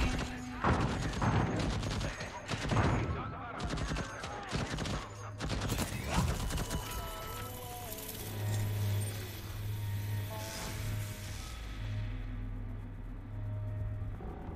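An automated turret in the video game Deathloop unleashes loud, rapid bursts of gunfire, dense volleys in the first seconds giving way to rumbling machine noise and sustained game sound.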